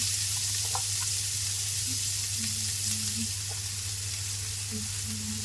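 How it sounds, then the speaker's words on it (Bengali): Chopped onion frying in hot oil with curry leaves for a potato curry, a steady, even sizzle holding throughout with a few faint clicks and no talking. "এরপরে দিয়ে দিচ্ছি পেঁয়াজ কুচি"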